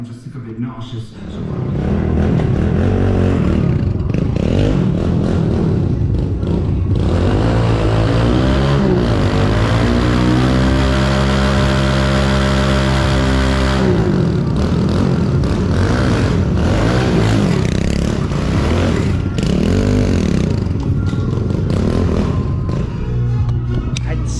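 A Kawasaki KLX110L dirt bike starts and runs, its engine droning loud and close and rising and falling as it revs and gets ridden, with a voice talking over it at times.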